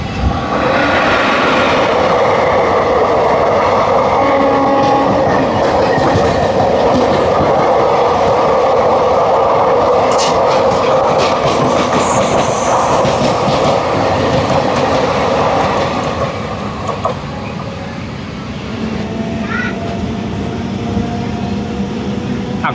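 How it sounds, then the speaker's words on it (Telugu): A Vijayawada–Guntur MEMU train, number 67229, rumbles loudly along the tracks near Guntur with a steady roar and clickety-clack, gradually easing in the final seconds. "గుంటూరు నుంచి అయితే ఒక ట్రైన్ అయితే బయటకు అయితే వచ్చింది"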